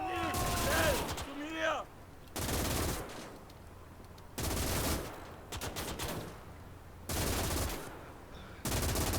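Machine gun fire in the WWII strategy game Gates of Hell comes in four or five loud, rattling bursts spaced a couple of seconds apart, with someone briefly talking near the start.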